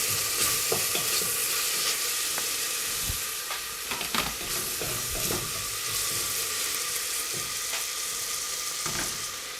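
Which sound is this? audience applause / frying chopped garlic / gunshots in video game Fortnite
frying chopped garlic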